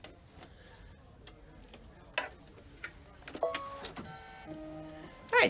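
An embroidery machine stitches a spring pillow design, producing sparse ticks and clicks followed by quick rhythmic mechanical whirring bursts toward the end, fairly quiet and close.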